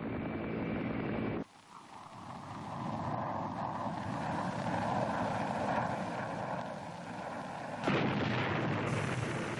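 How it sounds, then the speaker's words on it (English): Loud, sustained roar of fighter bomber engines and helicopter gunship rotors attacking landing zones in the Vietnam War, broken by abrupt cuts and a sudden heavy burst near the end, with no voices. "Fighter bombers and helicopter gunships hammered the landing zones."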